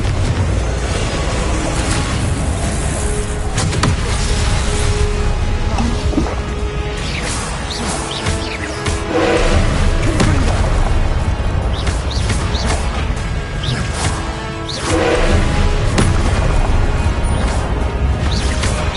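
Fire-spell explosions go off repeatedly in the Hogwarts Legacy video game, loud booming blasts and whooshes that crowd together with crashing debris through a dense, chaotic battle soundscape.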